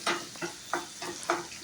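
Onions and shallots fry in hot oil with curry leaves and dried chilies for a chicken fry, with a steady close sizzle broken by several bursts of spoon stirring and scraping in the pan.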